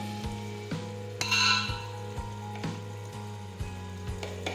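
Cumin and salt go into frying pav bhaji, which sizzles steadily in the pan while a spoon scrapes and taps against it in a regular stirring rhythm, close and clear with no talk.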